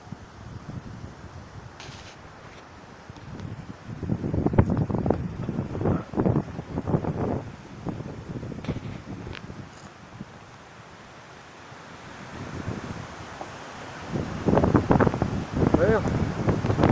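Strong wind gusting outdoors in a village, a rough roaring rush that swells and fades in waves across the microphone, with voices speaking over it.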